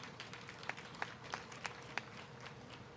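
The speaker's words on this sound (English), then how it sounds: "Let's give him a round of applause as well." Quiet, distant audience applause at an outdoor tunnel groundbreaking ceremony, given for a city administrator: steady soft clapping with a few sharper claps standing out, faint and far off.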